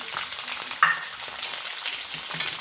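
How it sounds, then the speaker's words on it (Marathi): Chopped onion frying in hot oil with garlic and chili, giving a steady close sizzle with one sharp clink of a spoon against the pan partway through. No one speaks. "आता कांदा फ्राय करून घ्यायचा रेड होईपर्यंत त्याला हलवत राहायचं"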